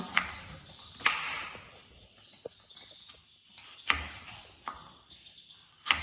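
A knife chops tomato, capsicum and onion on a board in a few sparse, separate close thuds spread over several seconds, with quiet pauses between cuts.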